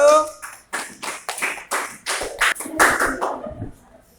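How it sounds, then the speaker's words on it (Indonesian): A class cheers group 1 with a burst of hand clapping and taps, fairly loud with a few voices mixed in, fading out near the end. "tepuk tangan untuk kelompok 1"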